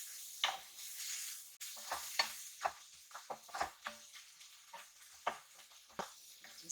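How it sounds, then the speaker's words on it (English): Dry chili flakes dropped into hot oil for aglio olio pasta, quiet sizzling in the pan broken by a series of scraping stirs and light taps at a steady pace. "Okay, now I add in the chili flakes, the dry chili flakes,"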